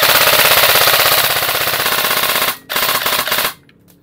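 An airsoft CYMA AK74 gas blowback rifle fires loud, rapid full-auto bursts, a continuous rattling stream that breaks briefly, resumes, then stops abruptly.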